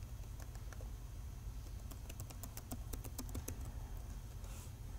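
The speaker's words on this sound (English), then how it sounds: "I always just go through Google and type in Panasonic drivers." Keys on a Panasonic Toughbook keyboard click in a quick, uneven run of faint taps over a steady low hum.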